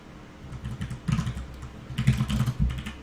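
Someone types on a computer keyboard, close and clattery, in quick irregular bursts of keystrokes.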